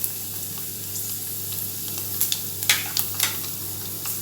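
Black pepper and cumin seeds spluttering in hot oil for a South Indian fish curry, with a steady hiss and a few sharp pops and crackles near the end.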